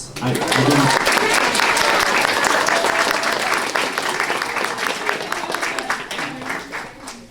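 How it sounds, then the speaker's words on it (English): An audience at a Genshin Impact convention panel breaks into loud, sustained applause, dense clapping that stays strong before gradually thinning toward the end, with a few voices underneath. "A round of applause."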